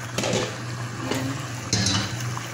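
Potatoes go one by one into a metal cooking pot for kable, giving clinks and knocks against the metal over a low kitchen hum, with no talking.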